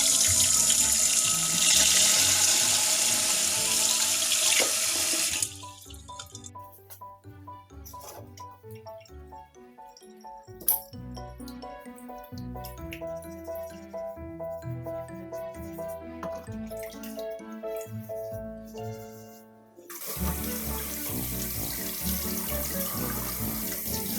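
Water runs from a kitchen tap for cleaning eggs before dyeing them, a steady rushing stream at the start and again near the end, with a quieter stretch between filled with faint clinks and music-like tones.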